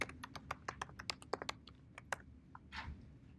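Fingers type on a computer keyboard, a quick run of crisp, close key clicks in an uneven rhythm, then a brief pause and a couple of final taps.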